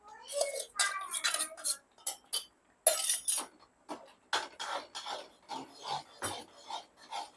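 A metal spoon scrapes and knocks around a pan of tamarind spice mix (puli kaichal) in a run of short, uneven strokes, close by, with no talking.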